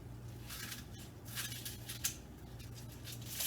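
A knife slicing collard leaves lengthwise and then across on a board, several soft, faint chopping strokes spaced irregularly over a quiet background.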